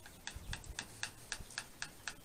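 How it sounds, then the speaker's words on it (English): A Mora knife sits slightly loose in a belt-hung sheath with a Velcro tie, giving off quick, faint, evenly spaced clicking rattles, about ten light ticks in a steady rhythm with nothing else around them. "That noise is from the Mora being a little bit loose on here"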